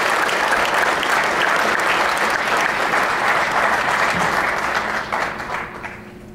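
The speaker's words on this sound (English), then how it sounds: "Let's have a round of applause for Boyd Melson, our Dick Steinberg Award winner." Sustained applause from an audience greeting Boyd Melson as the Dick Steinberg Good Guy Award winner, dense steady clapping throughout that thins and fades over the final second.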